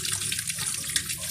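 Water runs from a tap over chili peppers being washed, a close, steady splashing stream without speech.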